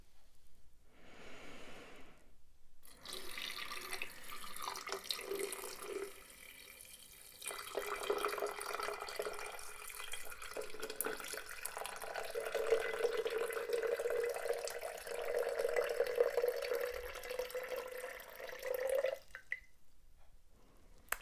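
Water poured slowly into a glass jar holding stones, a soft steady trickle that builds in pitch as the jar fills, quiet and close, with brief pauses at the start and end and no talk.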